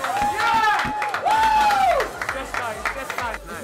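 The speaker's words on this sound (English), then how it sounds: "I want to get a round of applause." An audience claps and cheers with a crowd's round of applause, nearby hands patter steadily while an excited voice wails over the top before the clapping fades out.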